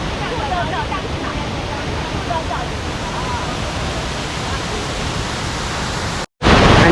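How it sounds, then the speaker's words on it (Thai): Rushing water at the second tier of Kwang Si waterfall, a steady broadband roar that holds at one loud level throughout, broken by a brief dropout near the end. "นี่เป็นชั้นที่สองของน้ำตกนะคะ"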